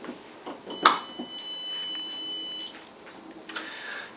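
An electric kiln's controller gives a single steady electronic beep tone lasting about two seconds after being plugged in, with faint handling clicks around it and no talking.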